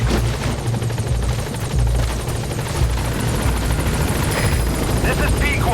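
A support helicopter in Metal Gear Solid V: The Phantom Pain arrives at a landing zone, its rotor thumping loud and close in a steady beat, with faint whistling tones rising near the end.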